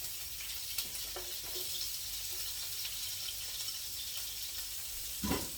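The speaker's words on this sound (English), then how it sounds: "I just took these out of the grease, and I'm going to add my onions." Onions sauté in leftover skillet grease after cube steak is cooked, making a faint, even sizzle with a few soft stirring knocks near the end.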